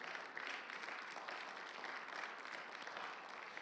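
Congregation applauding at a church service, a steady, even wash of clapping that fills the space at moderate distance without letup.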